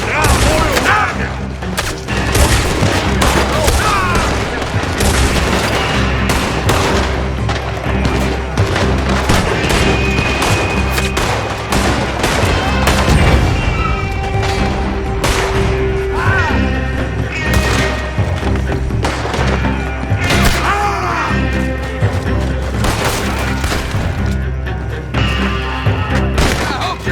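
A chaotic Red Dead Redemption 2 shootout around an oil wagon, with repeated loud gunshots, volleys and heavy booming blasts packed densely throughout, mixed with shouting voices and game sounds.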